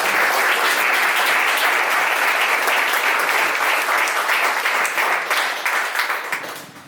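An audience at a magazine launch and writer's presentation gives sustained, dense applause that stays loud and tapers off at the very end.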